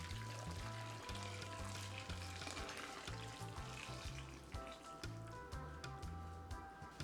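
Steady sizzling and frying as hot water is poured into a pot of oxtail for Jamaican curry, a dense crackle that stays loud and continuous throughout.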